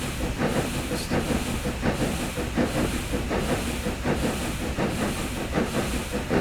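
Steady loud hiss of a steam locomotive, the S&DJR 7F 2-8-0 in Train Simulator Classic, running continuously with faint rhythmic chuffing or wheel clatter beneath, no voices.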